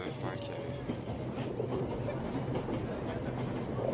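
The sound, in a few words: train running in 11-11 Memories Retold video game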